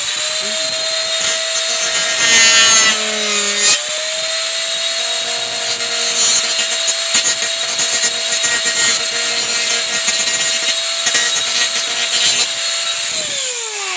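A rotary tool trimming the edge of a fiberglass Predator test helmet: a loud, steady high-pitched whine with gritty grinding texture, dipping briefly early on and running continuously near the microphone.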